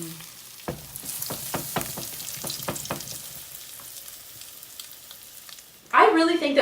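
A batch of brunch food is laid onto a hot buttered griddle and fries with a soft steady sizzle, interrupted by a few sharp taps and scrapes early on, then a sudden loud burst near the end.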